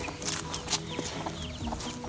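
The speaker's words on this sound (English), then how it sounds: "Chickens are hot." Chickens clucking on a hot day, a flock's scattered soft clucks and short calls at middle distance over a steady low background hum, no talk.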